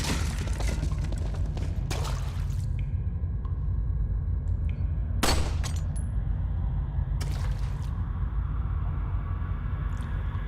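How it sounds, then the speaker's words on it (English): Sharp gunshots crack out one at a time in Resident Evil 4 as a lamp is shot and shatters, several separated blasts over a low, steady ambient rumble. "if you shoot this lamp right here, you'll be able to see 3 treasures in this room."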